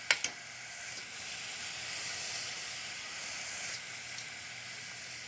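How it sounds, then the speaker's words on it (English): Tortilla strips fry in hot oil, giving a soft, steady hiss that stays fairly quiet and constant, opening with a couple of small clicks. "Wait till it gets hot and then fry the tortilla strips."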